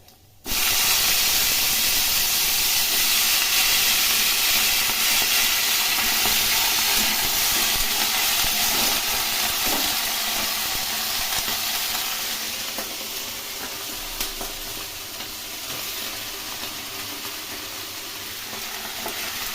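Vegetables sizzle loudly in hot oil with panch phoron, a steady close frying hiss that starts suddenly and carries on, easing slightly in the second half.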